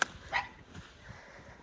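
A dog shut inside a summer kitchen during deep winter snow barks a couple of times, muffled and somewhat distant, with a sharp bark at the start and softer yips after.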